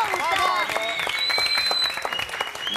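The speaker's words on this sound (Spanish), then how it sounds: "Aplausos, aplausos." A television studio audience claps loudly and continuously, with cheering voices and tonal sounds layered over the applause throughout.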